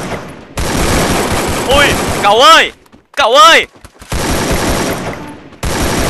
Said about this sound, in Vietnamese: tôi đang bắn không nhắm nè